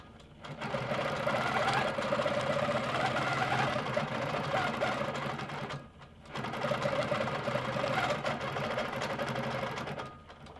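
An Amara ST quilting machine on a lift table runs continuously while stitching fabric, a loud steady mechanical whir in two long bursts separated by a brief pause, with no talking.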